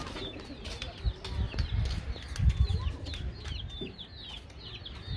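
Pigeons and other fowl at a home pet loft, with chirps and coos layered over soft, irregular fluttering and rustling bursts close by, with no talking.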